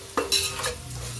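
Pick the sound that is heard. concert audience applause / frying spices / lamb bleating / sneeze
frying spices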